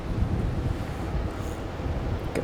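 Strong wind blowing by a doorway, a steady, loud rumbling roar buffeting the microphone throughout, with no voices.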